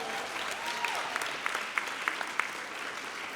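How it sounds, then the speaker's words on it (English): Distant, fairly faint applause from a high school graduation ceremony audience, a broad steady patter with a few sharper individual claps standing out, no voices over it. "You can clap for that."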